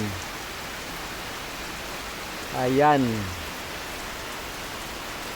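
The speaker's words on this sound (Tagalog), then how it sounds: "bigla na lang lumalantak ang malakas na ulan" Heavy midday rain in Bicol pours down in a steady, dense hiss from start to finish, with one short spoken word partway through.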